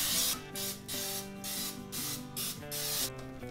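Bursts of cooking spray hiss close and loud as a loaf pan is greased for zucchini bread, several short sprays separated by brief pauses, with no voices.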